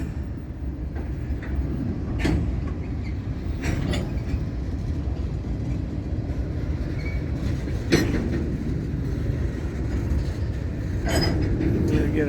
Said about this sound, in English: this train's backing back into the yard